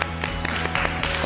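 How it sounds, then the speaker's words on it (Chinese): A small group breaks into brief applause, quick overlapping claps over a steady tonal backdrop, fairly loud and close. "为大家鼓掌，好吧，加油，"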